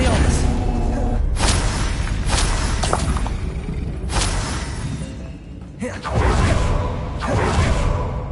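The Expelliarmus spell is cast repeatedly in the video game Hogwarts Legacy, giving several sharp whooshing bursts with booming impacts that come every second or two over a busy combat soundscape, with a voice heard among them.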